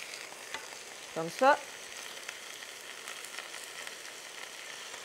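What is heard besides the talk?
meatball and pig's trotter stew cooking in a pan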